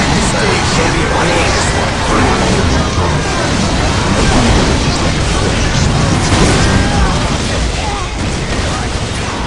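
Battle din in the video game Warhammer 40K Dawn of War: a loud, continuous wash of explosions and gunfire with deep rumbling booms, unbroken throughout and fairly close.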